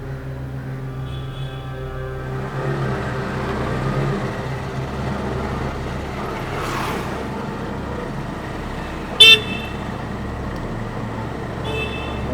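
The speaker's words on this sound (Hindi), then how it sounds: "हाँ हॉर्न बजा रहा है।" A car horn gives a short honk, then another brief toot near the end, over the steady rumble of passing road traffic.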